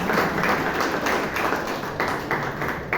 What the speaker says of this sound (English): Can we have a big round of applause to all the speakers and role takers?